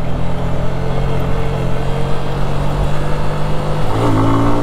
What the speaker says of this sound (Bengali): আবার অ্যাক্সেলারেশন, উঠে যাচ্ছি পাহাড়ে।